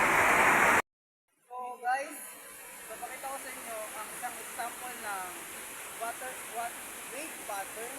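River water flows steadily past obstacles and currents outdoors, a constant broadband rushing hiss with faint voices and birdlike chirps over it, following a brief burst of noise and a pause.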